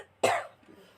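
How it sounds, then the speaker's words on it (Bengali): A single short, sharp cough from someone with a cold, close and loud, fading into quiet room noise. "খুব কাশিও হচ্ছে"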